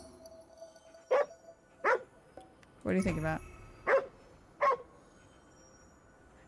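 A sad-looking dog in the video game Ghostwire Tokyo barks five times at an even pace, loud and close, each bark short and sharp, while a person talks over the scene.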